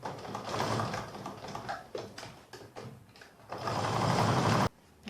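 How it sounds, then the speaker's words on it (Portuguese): Sewing machine stitching layered fabric for a cup coaster, running in rapid mechanical bursts that speed up and pause, ending in a long continuous run that stops abruptly. "Costurei em cima daquela marcação e aqui embaixo ficou sem costurar"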